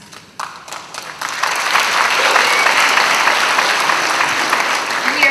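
Audience applause at the Palm Beach International Film Festival student film showcase, starting with a few scattered claps and then swelling into a full, steady ovation that holds for several seconds.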